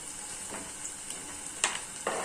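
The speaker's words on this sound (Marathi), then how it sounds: "आपलं तेल गरम झालेलं आहे. आपण यामध्ये आता बारीक चिरलेला कांदा घालूया." Finely chopped onion dropped into hot oil in a pan, a steady soft sizzle and hiss with a few brief crackling bursts near the end.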